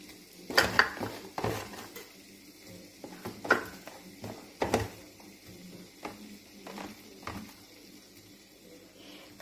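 Onions frying in oil in a pan, with several sharp clinks and scrapes of a utensil against the pan at irregular intervals over a low, quiet kitchen background.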